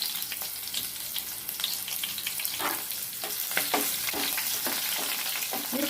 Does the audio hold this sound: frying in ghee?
yes